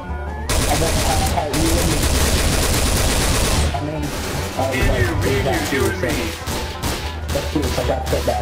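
Rapid bursts of gunfire from a Trouble in Terrorist Town match in a video game, loud and dense throughout with music or game sounds beneath and a few brief pauses.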